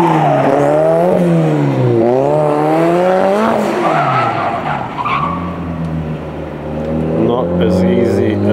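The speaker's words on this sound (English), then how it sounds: "So that's Taniguchi practicing to get the car sideways." A race car drifts sideways through a corner, its tires skidding and squealing in long wavering screeches over a loud, revving engine that rises and falls as it slides, up close and continuous throughout.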